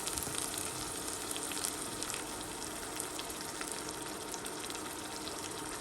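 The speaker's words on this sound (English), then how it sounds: "in order to ensure that the pepper fries properly" Dried chili peppers fry in plenty of vegetable oil, giving a dense, steady crackling sizzle that holds at an even level throughout, close and continuous with no voices.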